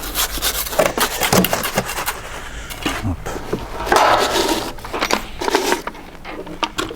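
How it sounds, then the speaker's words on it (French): Wet drainage concrete being compacted into a tile-drainage beam formwork, two metres long and twenty centimetres wide: rough rubbing and scraping strokes, close and moderately loud, repeated irregularly throughout with no talk. "Je vais commencer à le compacter un petit peu."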